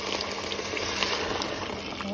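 Water for a soup heats in a pot on the stove, giving a dense, steady bubbling hiss up close, continuous throughout with no clear speech over it.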